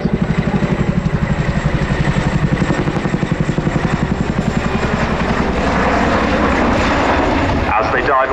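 RAF Chinook twin-rotor helicopter displaying at RAF Cosford, a loud, rhythmic rotor thudding with a deep engine roar, steady and close, under amplified commentary from an announcer.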